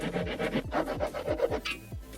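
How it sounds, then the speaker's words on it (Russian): Hand saw cutting a wooden board for a tool shelf, with about eight steady back-and-forth strokes in an even rhythm, close and clear. "Так, теперь нам нужно отпилить."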